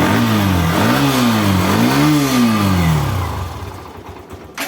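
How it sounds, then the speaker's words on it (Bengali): A used motorcycle from a bike market revs loudly and close, its engine pitch rising and falling in two sweeping surges before settling back toward idle, with no talk over it. "ইঞ্জিনের সাউন্ড একদম একদম নতুনের মতো, তাই তো?"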